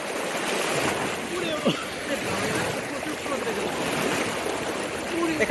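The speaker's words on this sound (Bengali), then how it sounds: "এখানে অনেক পানির স্রোত।" Strong river current rushes over the rocks at Jaflong Zero Point in Sylhet, Bangladesh, a constant loud broadband wash with occasional splashes, while people talk over it.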